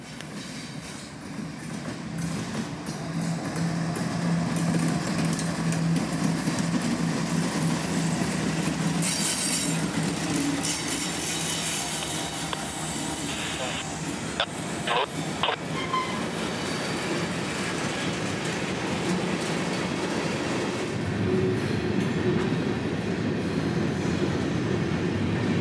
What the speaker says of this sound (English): 674 would appear to our delight, with a couple more GEs hauling yet another big train from Pensacola